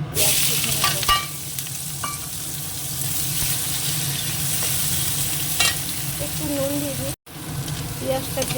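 Poultry chicken fries with a little whole cumin in a pan, stirred as it cooks. A loud, steady sizzle runs throughout, with scraping stir strokes now and then near the start.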